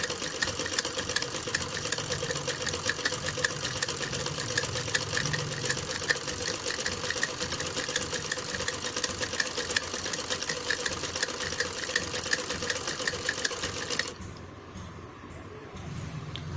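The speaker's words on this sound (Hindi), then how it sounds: "पूरी नेक राउंड को हमने स्टिच कर लिया है" A sewing machine runs steadily and close for a long stretch while stitching around the back neck of a blouse, a dense even mechanical whir that cuts out near the end, leaving quieter room sound.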